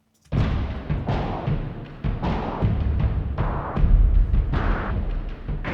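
Deep, booming epic toms layered with sub-hits strike in a steady pattern, each with a heavy low-end thump and a bright high-filtered top, loud and full with no voices.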